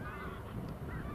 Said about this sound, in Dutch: er zijn heel veel ganzen neergestreken hier in het Noord-Gesterse